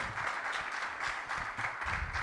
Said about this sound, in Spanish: Un aplauso también, parte del comité organizador.